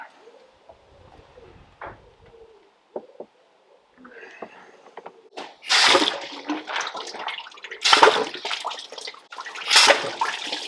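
Water bursting in sporadic gushes into a catch tub from a pressurized water system in a VW T5 camper, quiet at first, then loud splashing spurts arriving in irregular surges.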